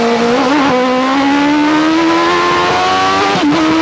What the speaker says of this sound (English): Just get a listen to that engine.